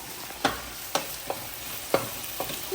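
Beef curry with curry leaves stirred in a pan, a soft continuous sizzle punctuated by five or six crisp spoon scrapes at an uneven rhythm, close and fairly quiet.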